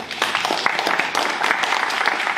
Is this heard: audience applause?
yes